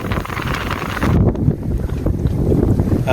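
Strong wind gusts buffeting a sailboat under way at sea, a continuous loud roar of wind noise with a surging gust midway, alone without speech.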